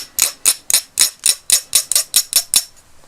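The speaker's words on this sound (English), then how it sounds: "So we'll just file this down so that there's no bits that can snag on anything." A hand file worked over the cut ends of a metal doll stand, about a dozen sharp, evenly paced rasping strokes close up, loud and alone, then stopping.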